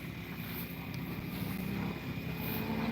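Large radio-controlled model airplanes flying aerobatic routines at an IMAC practice competition at an RC club field, heard as a faint, steady distant propeller drone with wind noise throughout.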